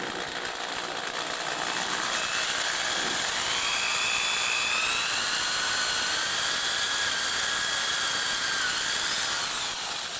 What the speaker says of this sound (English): you can watch me drill a hole in a piece of pipe